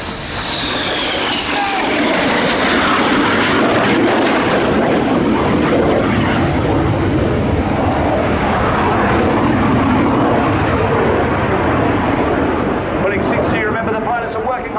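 RAF Red Arrows jets fly the Synchro pair's 360-degree 6G turns at the Royal International Air Tattoo 2016: a loud, continuous roar of jet engines that sweeps in pitch as the aircraft pass overhead.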